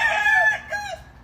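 A black rooster, a young stag from a farm, crows once up close, a strained, wavering call that breaks partway through and trails off.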